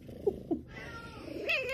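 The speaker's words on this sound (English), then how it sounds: "It is like 5 a.m. and my dogs have been barking and Sheba's been meowing." A cat gives a short, rising meow near the end, after a couple of soft thumps in a quiet indoor room early in the morning.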